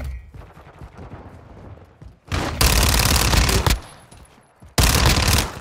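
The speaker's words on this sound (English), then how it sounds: "I'm taking fire!" Bursts of loud automatic gunfire in a first-person shooter video game, two sustained close volleys separated by a brief pause, with quieter game ambience beforehand.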